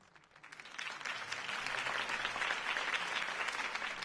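A crowd applauds after Harvey Dent's campaign speech in the Fortnite video game; clapping swells quickly from quiet to a dense, sustained roar of many hands that holds steady.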